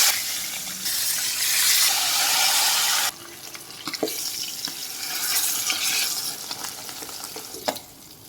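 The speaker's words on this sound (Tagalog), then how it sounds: "so fry na natin ang bangus" Marinated milkfish (daing na bangus) frying in hot oil, heard as a loud, steady broad sizzle for about three seconds, then softer crackling and spitting with a few sharp pops and clinks.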